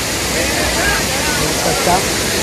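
A waterfall pouring over rocks roars as a steady, loud, close wash of broadband noise, with a voice faintly underneath.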